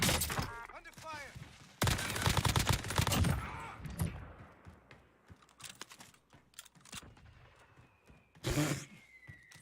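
Gunfire in the Call of Duty Warzone Pacific video game: loud rapid bursts of shots, one long volley near the start and later scattered single cracks, mixed with a voice and game sounds.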